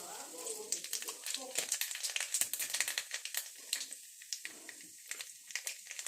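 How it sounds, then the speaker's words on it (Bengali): Nigella seeds (kalo jeera) crackle and sizzle in hot oil as they hit the pan for a home-style ridge gourd and fish curry, a quick close popping patter under a voice. "আমার তেলটা গরম হয়ে গেছে আমি প্রথমেই কালো জিরে দিয়ে দিচ্ছি"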